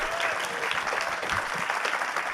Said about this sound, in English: would you please give a big round of applause for our fellow Rambler this week, Mr. Mitch Benn